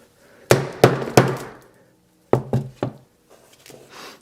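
Hammer striking a Samsung Galaxy S7 smartphone: three sharp, hard knocks in quick succession, a pause, then three more, each cracking loudly and ringing briefly in the room.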